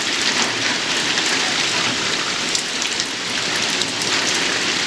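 Steady, dense rain pours down across a building site where bricklaying on a house extension up to the damp-proof course is underway, a constant hiss of drops hitting surfaces with no voices.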